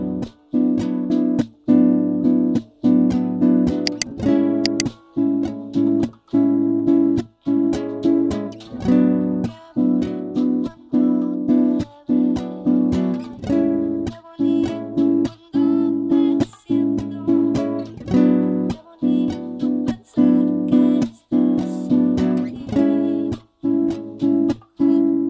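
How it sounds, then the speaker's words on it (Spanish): An acoustic guitar plays through the verse chords of a song in a steady, continuous strumming rhythm, close and loud, with no talking. "Vamos con una demostración de las estrofas y suena así."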